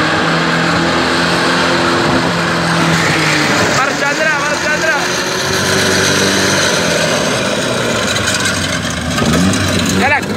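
Dodge 1500 pickup drifting on bare rims without tires, engine revving hard and rising and falling in pitch with scraping metal grind, loud and close, while excited voices shout over it.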